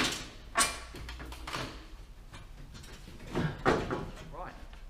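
Two 10 mm bolts are undone on a Renault Twizy, with several short metallic ratcheting and scraping bursts in quick succession, close up, among faint background noise.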